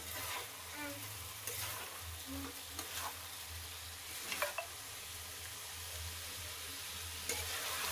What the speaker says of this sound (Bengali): জিরে আদা বাটা দিয়ে দিচ্ছি